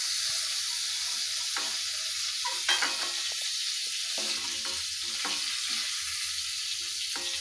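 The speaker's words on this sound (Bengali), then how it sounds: "দেখুন, চিংড়ি মাছগুলো কিন্তু একেবারে আমার ভাজা হয়ে গেছে।" Shrimp sizzle steadily as they fry in hot oil in a pan on a village-style kitchen stove, a continuous close crackle with a few sharper pops and stirring sounds throughout.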